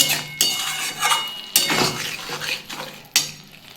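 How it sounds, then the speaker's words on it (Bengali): Ridge gourd and lentil fritter curry with poppy seeds is stirred in a pan, giving a few sharp metallic knocks of the spatula against the pan between wet scraping and low sizzling, close up and without talking. "আমি একটু নাড়িয়ে দিচ্ছি পোস্ত দিয়ে। একটু সামান্য কষিয়ে নেব।"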